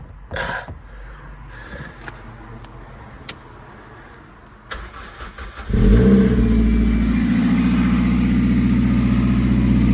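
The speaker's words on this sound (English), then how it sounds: "I'm going to start her up now and we'll see what this new exhaust sounds like." A Toyota MR2 Roadster engine fires up and revs hard with a loud, throaty race exhaust and sports cat, roaring close by after a few seconds of quiet clicks and shuffling.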